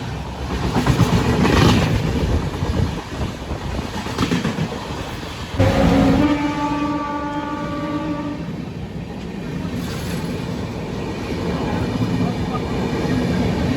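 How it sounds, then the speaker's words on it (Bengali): A train rumbles past loudly at Khurda Road Junction, its horn blaring a long sustained blast partway through, with the clatter of wheels continuing underneath. "এই হলো সেই ট্রেন নাম্বার 20610"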